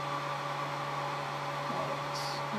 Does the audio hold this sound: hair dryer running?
yes